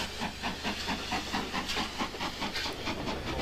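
Steam locomotive at a railway terminus in 1960, a continuous soft hiss of steam with a rhythmic pulsing chuff underneath, moderately faint and steady, with no voices.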